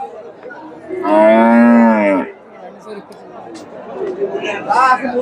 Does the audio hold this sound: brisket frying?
no